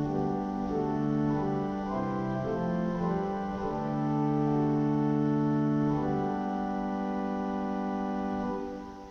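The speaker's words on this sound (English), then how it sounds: "The open diapason sounds like this, and I'll play it with the box open." Pipe organ open diapason stop on the swell division, played with the swell box open: a full, steady sustained chord with shifting held notes, loud and alone with no talking.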